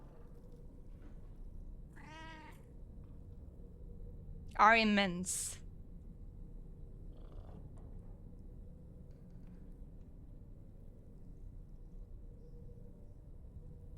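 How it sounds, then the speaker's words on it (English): Pet cat meowing twice in a quiet room, first a short mew then a longer, louder drawn-out meow, with soft low background hum; a brief spoken phrase follows. "It has a cat. He's very cute."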